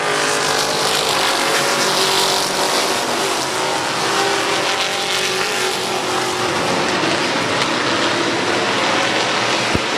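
Race cars at Midvale Speedway run nose to tail mid-race, a loud continuous broadband engine roar with shifting pitch from several cars passing close, sustained over the whole stretch with no talk.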